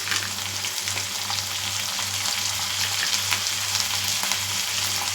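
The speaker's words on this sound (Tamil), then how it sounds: "இது ஒரு தக்காளி வெட்டி வச்சுருக்கேன், அதையும் போட்டுக்கலாம்." Chopped tomato frying in hot oil in a pan for mutton gravy, a loud continuous sizzle with faint stirring clicks, close and without talk.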